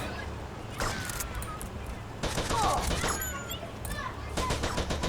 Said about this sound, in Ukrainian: тут уже Почалася стрілянина.